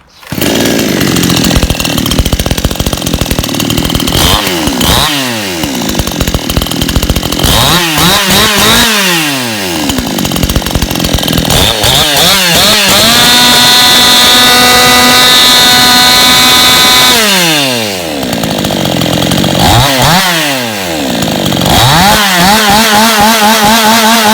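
A warmed-up TOSAKA model 999 chainsaw engine runs loud and close, revving up and down repeatedly between steady high idle stretches.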